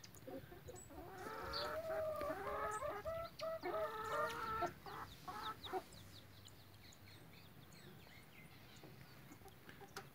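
A brooding hen clucks and calls in a sequence of close, repeated clucks for the first half, then quieter scattered sounds and background noise follow.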